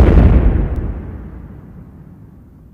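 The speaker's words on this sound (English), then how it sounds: "Well, I made an experiment wrong. So it exploded." A shaking potion in a cartoon science experiment blowing up: one loud, close boom that starts at full force and then rumbles down in a long, fading low tail, with no talking.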